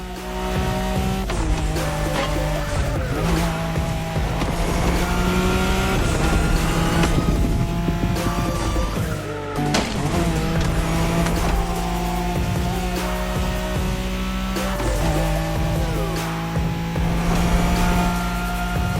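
A Nissan Skyline races in the video game The Crew Motorfest, its engine revving loud and continuous with repeated gear changes and tire squeals through corners, sustained throughout.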